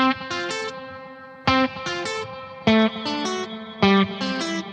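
Electric guitar run through Eventide H90 pitch effects in parallel and in stereo, a sequence of bright, stacked harmonic notes with pitch-shifted layers, picked in short repeating phrases with sharp attacks and ringing sustains, alone without speech.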